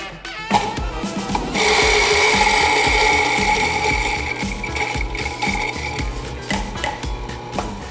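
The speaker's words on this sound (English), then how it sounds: "And we will be grinding this coffee through a coarse grind size." A coffee grinder set to a coarse setting of 14 grinds beans for a French press, giving a loud, close whirring grind that starts abruptly, holds steady and then tapers off into rattling.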